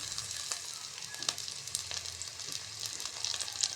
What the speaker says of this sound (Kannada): ಈರುಳ್ಳಿ ಎಲ್ಲ ಫ್ರೈ ಆಗ್ತಾ ಇದೆ. ನೋಡಿ ಸ್ನೇಹಿತರೆ, ಇದಕ್ಕೆ ನಾನು ಸ್ವಲ್ಪ ಕರಿಬೇವು ಹಾಕ್ತಾ ಇದ್ದೇನೆ